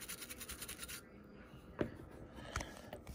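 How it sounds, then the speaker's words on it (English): An old toothbrush scrubs flux off a Sony PS1 power supply circuit board wetted with isopropyl alcohol, giving quiet, rapid scratchy bristle strokes up close, then a pause and a few separate brushing scrapes. "Get an old toothbrush."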